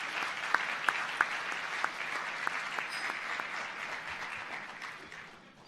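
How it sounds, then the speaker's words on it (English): An audience at an inventors' fellows induction ceremony claps, opening with a few distinct loud claps before settling into steady applause that fades out toward the end. "To me, that deserves an applause."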